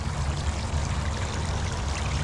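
Water rushing and gurgling through a freshly opened gap in a beaver dam, a steady, close, continuous pour with heavy low rumble and no voices.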